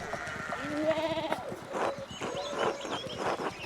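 Sheep bleat several times in the Pentiment video game, wavering cries at moderate distance, some overlapping, near a farm fence in a quiet rural scene with no talking.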